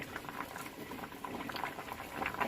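Lentils and beans bubble at a steady rolling boil in a pot on the stove, a continuous close patter of popping bubbles with no voices.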